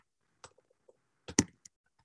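A few sparse, quiet clicks of typing on a computer keyboard, isolated keystrokes followed by a tight cluster of taps, close and dry.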